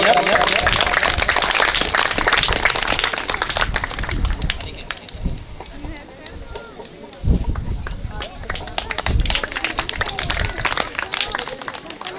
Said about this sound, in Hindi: एक बार सोनल बा के लिए जोरदार तालियां